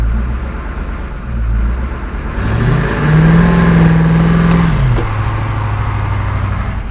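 A low-slung truck, similar to a grain truck, working in a cattle pen with its bed raised. Its engine idles, then revs up in a steady sustained roar for a couple of seconds before settling back down. It is close and loud, with no talk.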